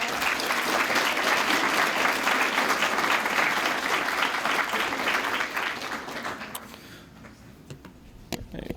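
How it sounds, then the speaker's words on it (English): A lecture audience welcomes a guest speaker on implicit bias with full, sustained applause for several seconds that fades out, leaving scattered last claps and small room noises. "we'd like to welcome him and give him a round of applause"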